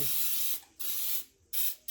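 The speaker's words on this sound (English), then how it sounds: "I'm just going to spray my pans today." Three hissing bursts of aerosol cooking spray onto baking pans, each about half a second, separated by short pauses, close and loud.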